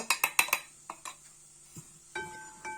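A utensil clinks and scrapes in a saucepan off the heat as flour is stirred into a sauce, with a rapid burst of sharp metallic taps, then scattered knocks and a brief ringing clink.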